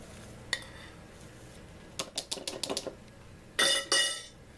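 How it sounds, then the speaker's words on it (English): Metal spoon scooping cake mix into a glass jar, giving a sharp clink, a quick run of small taps and scrapes, then two louder glassy knocks near the end. "Spoon it into our jar."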